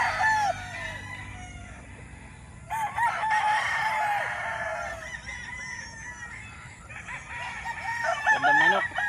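A lacy roundhead broodstag rooster crows in long, loud drawn-out calls near by, with other fowl crowing and clucking around it through the whole stretch.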